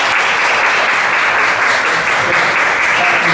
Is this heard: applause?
yes